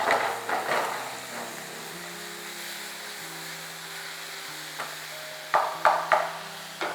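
Onions and ginger garlic paste fry in oil while a spoon scrapes and stirs them in the pan, with a low sizzle and several distinct knocking stir strokes, close and without talk.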